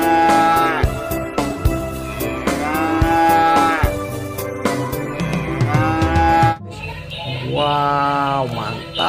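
A toy cow moos repeatedly in drawn-out, tonal electronic bursts, loud and close, with a short pause before a final moo.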